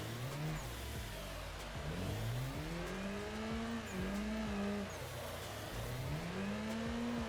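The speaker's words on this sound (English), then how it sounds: "get that turbo spooled up" A turbocharged drift car's engine revs repeatedly in Assetto Corsa, pitch climbing and falling in waves as the throttle is worked, loud and continuous with faint tire noise underneath.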